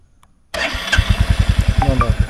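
A Royal Enfield Bullet 350 motorcycle, a 2023 model, starts up after a moment of near silence. The engine catches loudly and settles straight into a close, steady thumping idle.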